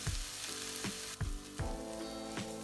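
Bulgur with ground ginger and turmeric fries in a pan, a loud close sizzle broken by several sharp scraping stirs at an uneven rhythm.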